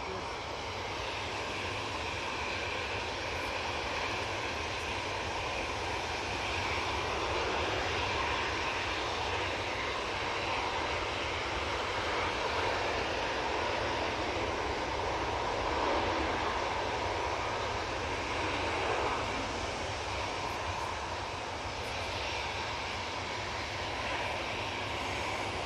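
Ryanair airliner on approach to Manchester Airport, a faint, steady distant jet rumble and hiss that drones on throughout without a clear peak.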